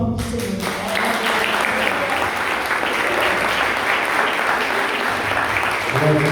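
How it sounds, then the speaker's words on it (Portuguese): A church congregation at a Saturday service clapping steadily and loudly, continuous applause with a few voices faintly underneath. "Eu queria uma salva de palmas para o Senhor."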